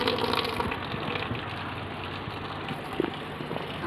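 Water gushes into a fish tank in a steady, rushing stream, loud and continuous, with a small splash or clunk near the end.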